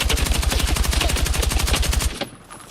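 Rapid automatic gunfire from a Battlefield 6 weapon fitted with a ribbed vertical grip, a steady close burst of evenly spaced loud shots lasting about two seconds, then cutting off into a brief fading tail.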